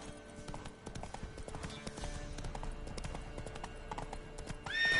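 Roach, a horse in The Witcher 3, gallops with rapid, rhythmic hoof clip-clops, fairly close and steady, ending in a short whinny.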